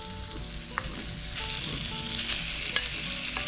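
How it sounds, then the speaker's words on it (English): Shad fish frying in a pan with garlic, a steady close sizzle and crackle with occasional stirring clicks, continuous and moderately loud. "Then you put the shad in."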